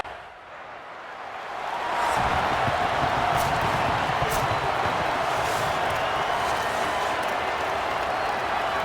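A stadium crowd at Williams-Brice roars in College Football 27, a dense, steady wash of cheering that swells up after the first two seconds and holds loud throughout.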